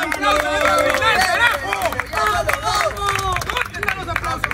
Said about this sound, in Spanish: Gracias a todos los aplausos para esta final.